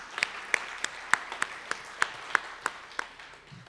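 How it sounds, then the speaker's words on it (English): A few people clap for the chef and kitchen team at a city address, sparse, slow individual claps in an even rhythm, fairly quiet and spaced apart. "give a round of applause to Chef Abdul and his team at the kitchen"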